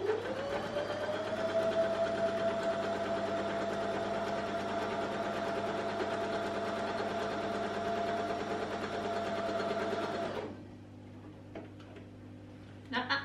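A sewing machine stitches fabric for a quilt-as-you-go mug rug, running as a steady, loud mechanical whir for about ten seconds before stopping, followed by faint handling noises.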